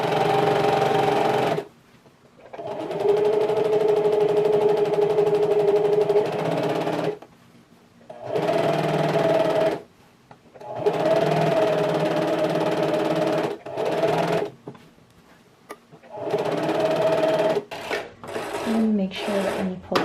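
A sewing machine stitches a row through fabric for a strapless drop-waist dress, running in several bursts of steady mechanical whirring separated by short pauses, close and fairly loud.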